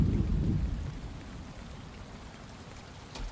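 Steady rain in the Minecraft video game, a broad hiss of falling drops with a low rumble at the start, continuous and moderately loud with no talk over it.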